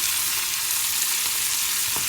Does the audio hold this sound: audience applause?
no